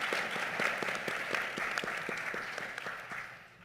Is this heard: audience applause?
yes